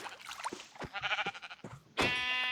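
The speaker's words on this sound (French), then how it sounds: "Il y a un mouton." Sheep in the Minecraft video game bleat in a quick run of short, nasal cries, ending with a louder, drawn-out bleat. No voices are heard.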